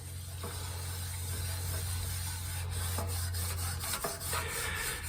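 Continuous rough rubbing and rasping as a cast iron pan is scrubbed with a little water, with a low hum underneath and no talking.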